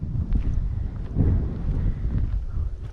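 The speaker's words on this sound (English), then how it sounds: "That's gonna be super windy." Strong wind buffets the microphone at a forest campsite, a low, rumbling roar that swells and eases in gusts for the whole few seconds.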